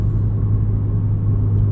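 A 2020 Subaru WRX pulls under load in third gear, heard from inside the car as a steady, loud, boomy low engine drone with no voices over it.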